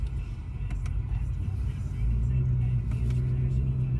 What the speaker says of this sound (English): I heard the exhaust just changed